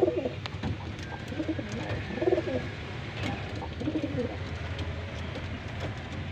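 A pigeon suffering from a cold, watery-eyed and moulting, coos in repeated low throaty bursts while being held in someone's hands, with faint background noise throughout.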